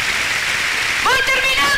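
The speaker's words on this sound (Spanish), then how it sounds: "Y ahora date un aplauso porque el Señor te lo va a mostrar." A church congregation claps during a service, a broad hiss-like wash of applause. A voice cuts in near the end.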